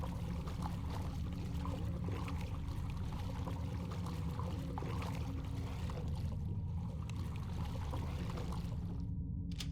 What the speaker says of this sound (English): The valve triggers a rush of water through the pipes, followed by the sound of a door opening.